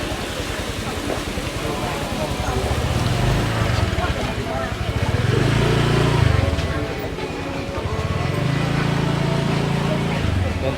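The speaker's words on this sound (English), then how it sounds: "Oh, and they have motorbikes coming down here as well, so you've got to watch yourself." Motorbikes pass through a busy Bangkok market, their engines rising and fading in a few waves close by amid a constant crowd murmur and people talking.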